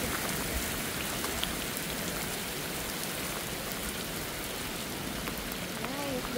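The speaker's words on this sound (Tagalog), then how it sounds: "Bugso-bugso lang pala ang pag-ulan dito guys." Steady, dense rain pours down continuously, a close hiss of drops pattering on surfaces with no breaks.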